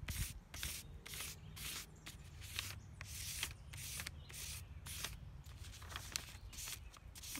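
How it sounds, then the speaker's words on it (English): Pastel rubs over finely textured tree bark in quick, rhythmic scratchy strokes, each a close, dry swish repeated about twice a second. "So let's see what happens when we do a rubbing of this one."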